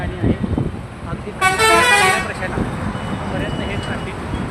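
Traffic jam in front of Lokseva Hotel in Mohol, with a loud, close car horn blaring for about a second over rumbling engines and busy street noise.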